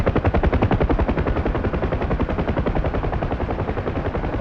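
Door gunners on a UH-1 Huey helicopter in the DCS combat flight simulator hammer out continuous machine-gun fire, a dense, loud, unbroken stream of rapid shots layered over the helicopter's rotor and engine drone, with no talking.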